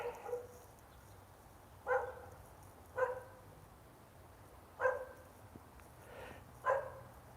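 A dog barks near homes beside a historic cemetery, giving five single barks spaced a second or two apart, distant and faint over quiet outdoor ambience, no talking.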